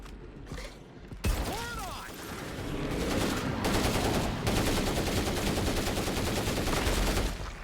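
Automatic gunfire in State of Decay 2 during a zombie assault on a plague wall: dense, sustained rapid shots and clattering mechanisms after a brief quiet start, loud and continuous for most of the stretch.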